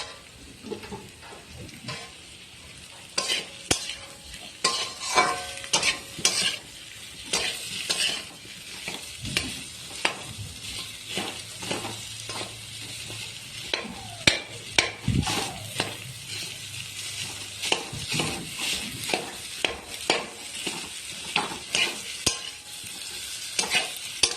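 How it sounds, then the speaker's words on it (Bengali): Boiled potato being mashed and stirred with a metal spatula in a pan, with repeated sharp scraping and tapping strikes and a faint sizzle underneath, close and fairly loud. "নুনটা আমি খুন্তিতে করেই ছোটো টুকরো করে আলুটা মাখাবো।"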